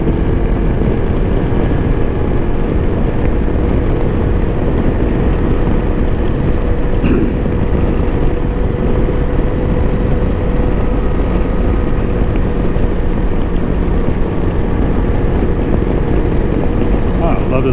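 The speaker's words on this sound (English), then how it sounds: "That parallel twin is just happy in those higher RPMs." Lifan KPT 400 parallel-twin motorcycle engine held at high RPM, a steady loud drone with heavy wind rush running continuously throughout, no breaks or gear changes evident.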